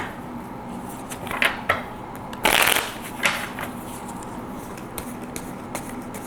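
Tarot cards are shuffled by hand in several quick riffling bursts, close and crisp, with a louder flurry in the middle and quiet gaps between.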